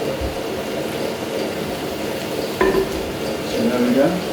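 Garlic sizzling in a hot pan, a steady frying hiss with a few clinks of a utensil stirring against the pan, close and moderately loud.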